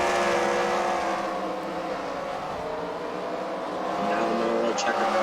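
Race car engines roaring on a track during a CWRL fight night event at the Freedom Factory, a steady loud drone that rises and falls slightly as the cars pass, with a commentator talking over it.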